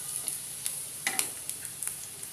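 Chopped garlic and green chilies sizzle in hot oil, a steady bright crackling hiss close by with small pops and a brief stirring scrape partway through, and no voices.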